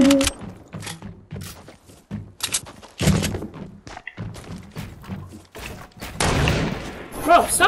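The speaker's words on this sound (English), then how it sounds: "Bro, stop shooting me." Gunfire rattles in a multiplayer video game, in rapid, irregular bursts of sharp shots and thuds. Excited voices talk over it throughout.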